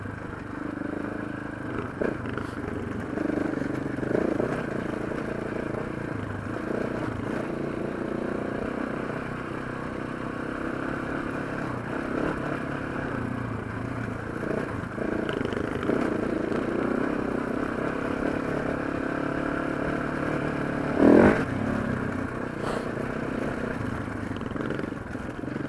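A KTM 690 and a Husqvarna 701 single-cylinder motorcycle ride over rocky ground, their engines droning steadily at a moderate distance with intermittent clatter and one sharper knock partway through, no voices.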